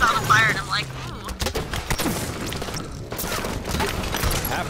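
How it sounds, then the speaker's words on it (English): Rapid machine-gun fire from the SAW in Halo 5 multiplayer, with dense bursts of shots and impacts under continuous game noise while players talk over it. "Big, is that shooting explosive rounds or is it a normal saw"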